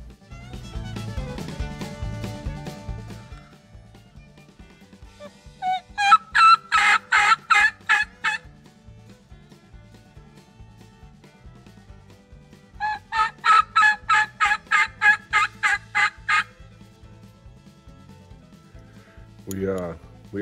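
A wild turkey gobbler sounds off from its roost in two loud, close bursts of rapid gobbling, each rolling for a few seconds, with a quieter stretch between them and a final short call at the end.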